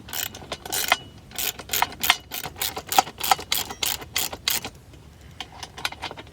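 A 10mm socket wrench tightens lock nuts on iArmor Edge running boards fitted to a 2020 Toyota Tacoma, giving quick bursts of close, sharp ratcheting clicks in an uneven series with brief pauses.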